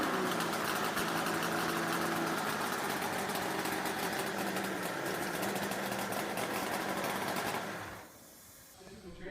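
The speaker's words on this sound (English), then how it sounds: "The 1917 Hult tractor, featured in the video, is a remarkable example of early 20th century agricultural engineering." A 1917 Hult tractor engine, an early agricultural machine, runs with a steady, dense, loud mechanical drone for most of the stretch, then cuts out abruptly near the end, leaving quieter background noise.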